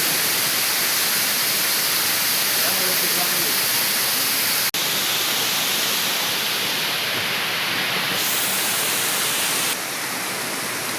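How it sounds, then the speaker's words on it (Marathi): Rushing water from waterfalls flowing down a rain-soaked valley between two mountains in the Bhimashankar forest, a steady loud broadband roar filling the whole stretch, with wind and rain mixed in. "तिथून धबधबे वाहत असतात"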